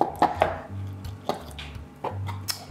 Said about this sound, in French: Donc là je vais l'écailler puis on va le faire frire